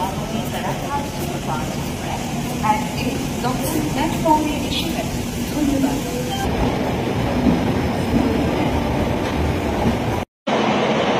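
The Saraighat Express from Howrah to New Jalpaiguri rolls along in a steady, loud rumble with rattling carriages and faint wheel noise, voices murmuring underneath, before a sudden brief dropout near the end.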